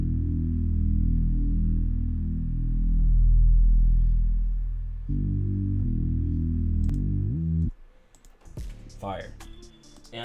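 A deep, sustained Cymatics synth bass sample plays a slow line of low notes, then cuts out into clicking and shuffling noises near the end.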